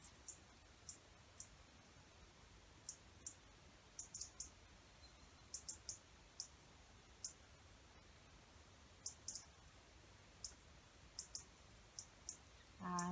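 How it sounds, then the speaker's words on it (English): Birds calling outdoors on a late-October day, short high chirps scattered sparsely across a quiet background of faint ambient noise, with a brief louder burst near the end. "enjoying the sounds of the birds."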